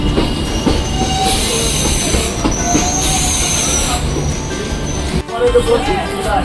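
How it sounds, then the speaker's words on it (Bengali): A MEMU express train pulls out of Naihati Junction, its wheels squealing loudly over a steady, close rumble of rolling stock and track noise. "আমাদের ট্রেন দু মিনিট নৈহাটি জংশনে হল্ট করে এবার নৈহাটি জংশন থেকে বেরোচ্ছে"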